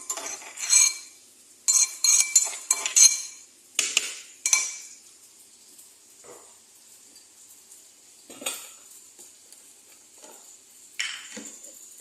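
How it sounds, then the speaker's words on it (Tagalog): Ginger being sautéed in a pan for a fish and tamarind dish, with a utensil scraping and clinking against the pan in several quick bursts, then quieter stirring and faint sizzle with occasional sharp clatters. "igigisa-gisa natin yan para mabango"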